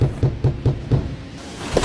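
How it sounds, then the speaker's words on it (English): Five evenly spaced knocks on a door, close and fairly loud, followed by a pause and a faint final tap. "when she heard a knock"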